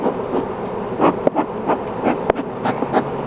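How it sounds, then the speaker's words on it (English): Honeybees buzz around an open hive during a fall inspection, a steady close drone with insect passes swelling and fading in irregular pulses and a couple of sharp clicks from handling frames. "Yeah, bees are getting kind of active right now."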